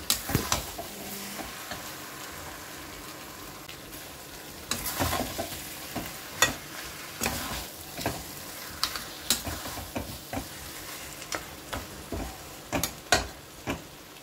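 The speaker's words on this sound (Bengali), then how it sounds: "ভালো করে মশলার সাথে একটু ভালো করে মিশিয়ে নেব।" Fish head being stirred with spices in a frying pan, a steady sizzle of frying under repeated scraping and clattering stir strokes, close and fairly loud, with no talk.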